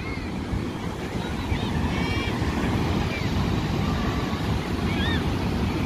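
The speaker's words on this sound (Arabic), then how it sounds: "البحر دابا هايج" Rough, churning sea with waves breaking steadily along a shore, a broad continuous wash of surf mixed with wind buffeting the microphone, and faint whistling or calling voices in the distance.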